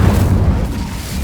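Incendio fire spell blast in the video game Hogwarts Legacy: a loud, deep whooshing boom that rumbles on as one continuous roar, with no talking.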